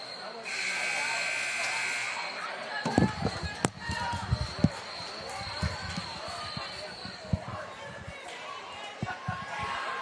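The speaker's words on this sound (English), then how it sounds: "Buzzer sounds" A loud, steady electronic buzzer blares for about two seconds at a girls' high school basketball game, then gives way to bouncing balls, squeaking shoes and crowd noise in a gym.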